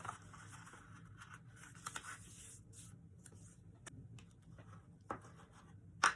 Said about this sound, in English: I'm just burnishing it with my bone folder